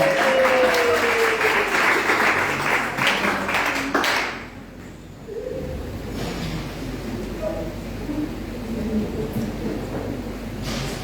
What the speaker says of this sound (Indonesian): Sekarang beri tepuk tangan untuk mereka.